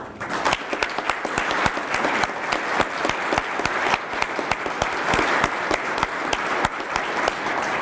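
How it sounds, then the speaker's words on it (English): An awards ceremony audience applauds the sponsors, with sharp individual claps standing out against a sustained bed of clapping that stays even throughout. "join me first in a round of applause for all the sponsors behind the award"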